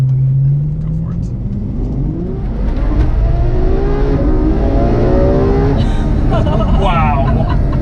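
A Ferrari F12 Berlinetta accelerates hard from inside the cabin, its engine note climbing in rising sweeps through the gears, loud and close, building to a roaring high-rev pitch toward the end.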